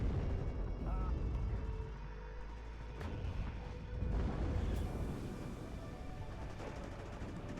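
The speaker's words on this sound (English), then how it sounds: "Fire support from the other side from those tanks managing to fire across the buildings and down the roads." Tank cannon fire in the Cold War strategy video game WARNO, deep booming shots and rumbling explosions under a constant dense battle din, with a few louder blasts standing out, while a voice talks over it.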